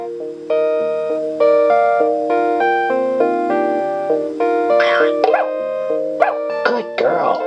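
A puppy in the Fatty Bear's Birthday Surprise computer game yaps in a string of bright, clipped barks that rise over a cheerful synthesized tune, loud and close, several yips bunched near the end.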